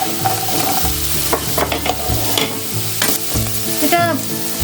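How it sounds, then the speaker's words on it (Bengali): Capsicum, peas and green chillies sizzle and fry in a pan, a steady close hiss broken by repeated scraping stirs, with no voices. "এটা খানিকক্ষণ ভাজা হবে, 5 মিনিট।"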